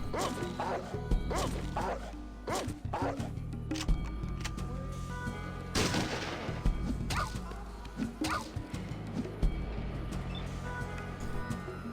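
A dog barks repeatedly in the Fallout video game amid gunfire, with sharp yips and whacks scattered across a busy mix and someone talking over much of it.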